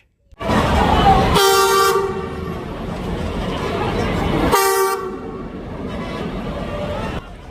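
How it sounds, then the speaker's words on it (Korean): A train rumbles past up close through a trackside market in Lagos, Nigeria, sounding two long blasts of its horn over the continuous roar of the wheels. "그러던 중 또 하나의 기차머리."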